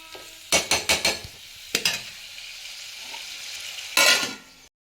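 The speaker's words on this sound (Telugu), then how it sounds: "ఇదైతే మంచిగా నూనెలో ఫ్రై అవ్వాలి" Mutton pieces fry in oil for a Telangana-style mutton curry, with a steady sizzle broken by several sharp clinks and scrapes of a stirring spoon against the pan.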